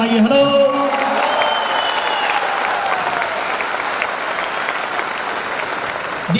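Steady applause from a large audience, loud and sustained, with a faint voice briefly audible near the start.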